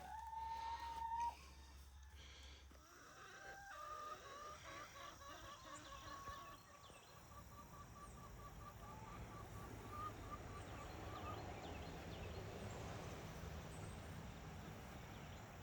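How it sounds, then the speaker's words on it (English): Blue Australorp and black Americana chickens cluck and call in a backyard flock, a rooster-like crow early on followed by scattered soft clucks and a steady outdoor hum, fairly quiet and without talk. "So these are the blue Australorps."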